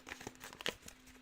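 Tarot cards shuffled by hand at close range: quick, light papery riffles and crinkly slaps come in short irregular bursts, fairly quiet and alone.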